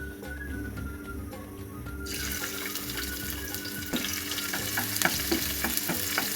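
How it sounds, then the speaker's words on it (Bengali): Chopped onions frying in soybean oil in a home kitchen, a steady broadband sizzle that swells louder partway through, with scattered small pops and clinks of stirring and no talk. "দিয়ে দিচ্ছি সয়াবিন তেল আর পেঁয়াজ কুচি।"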